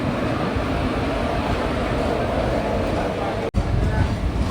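Tirupati–Rameswaram Express train rumbles loudly and steadily nearby, a dense continuous roar with a brief dropout near the end, with people talking faintly underneath.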